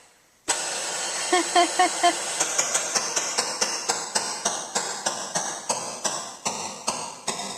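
Synthesized 8-bit dungeon footsteps from a SID-chip organ keyboard, a steady series of sharp electronic thumps with bright noisy tails, repeating evenly for several seconds after a brief tonal blip pattern.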